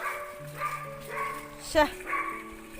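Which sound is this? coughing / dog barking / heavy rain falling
dog barking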